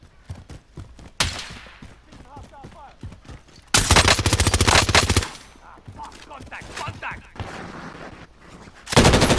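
Call of Duty Warzone gunfire: scattered single shots, then a long loud automatic burst in the middle and another short burst at the end, mixed with distant shots and brief voices.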